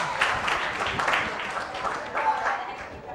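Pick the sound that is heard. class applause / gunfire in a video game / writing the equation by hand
class applause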